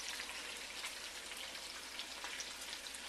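Browned meat and its grease sizzle softly and steadily in a pan over low heat while the excess fat is drained, with a faint, even crackle throughout.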